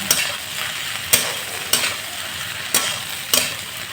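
Chopped onions sizzle steadily with okra in a hot pan, the continuous frying hiss broken by about five sharp scraping stirs at regular intervals.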